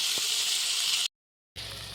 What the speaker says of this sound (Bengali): তো আলুটা আমি একটু ভালোভাবে ভেজে নিচ্ছি।